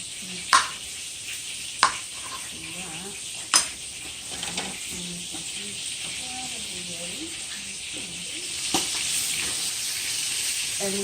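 Food frying in a pan while being turned, a steady soft sizzle and hiss punctuated by a few sharp utensil clicks, with people talking over it.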